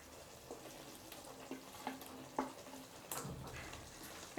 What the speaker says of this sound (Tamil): அப்படியே லைட்டாக கிளறி விடுங்க